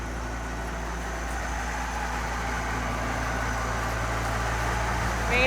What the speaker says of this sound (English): Watch out for that new tractor over there